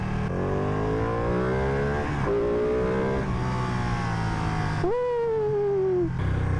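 A Ducati V2 motorcycle engine revs up through the gears in rising, throaty pulls, then gives one sharp high blip before settling, loud and close with steady wind noise.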